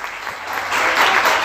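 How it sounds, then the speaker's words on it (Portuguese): Church congregation applauding Jesus during a Portuguese-language service, a dense wash of clapping that swells louder through the second half, with no voices standing out. "Você pode aplaudir Jesus por isso?"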